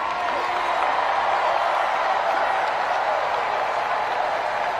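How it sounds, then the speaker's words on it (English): A large crowd at a political rally for Kamala Harris in Georgia keeps up steady, dense applause and cheering, a continuous wash of noise with no break. "Let that applause sink in."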